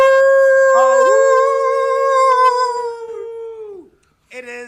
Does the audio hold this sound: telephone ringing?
no